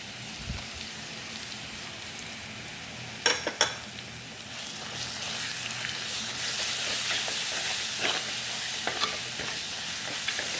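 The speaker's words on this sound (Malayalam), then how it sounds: "അതിലോട്ട് നമുക്ക് ഈ അരച്ച് വെച്ചിരിക്കുന്ന മസാല അങ്ങോട്ട് അരപ്പിട്ട് കൊടുക്കാം" Ground masala paste frying with onions in a pan for Kerala-style kera fish curry, a steady sizzle with stirring scrapes and a couple of sharp utensil knocks early on, close and continuous with no talking.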